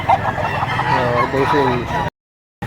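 A fighting rooster clucks and squawks close by for about two seconds, then the sound cuts out briefly.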